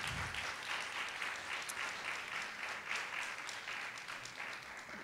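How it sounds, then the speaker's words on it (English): A crowd at an ADA 25th anniversary celebration applauds steadily for several seconds, a dense, even wash of clapping heard from a moderate distance. "my own sister is here, Marcia Bowser, so give her a round of applause."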